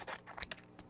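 Scissors snip several times in quick, uneven succession, close and fairly quiet, each cut a short crisp crunch.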